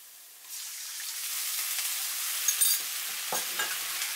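Seasoning sauce for Mongolian beef is poured into a hot frying pan, and a sudden sizzle flares up and holds. Close scraping stirring strokes and small crackles follow. No one talks.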